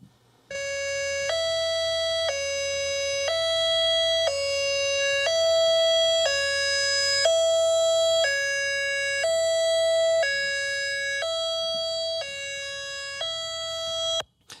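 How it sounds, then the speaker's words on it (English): A high-low evacuation siren alternating steadily between a high and a low pitch, loud and continuous for about fourteen seconds with no talking. "so I'd like to just present that high-low siren to you right now."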